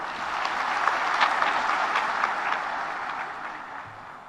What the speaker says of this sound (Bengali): তাদের জন্য আমরা হাততালি দিই